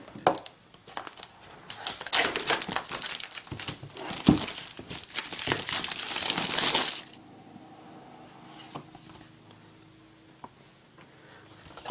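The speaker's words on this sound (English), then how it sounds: "I'm just going to use a razor blade to cut the plastic off." A razor blade slicing the plastic wrap off a MacBook Air 11.6 box, close crinkling and cutting crackles for several seconds that stop abruptly, followed by quiet room tone with faint handling taps.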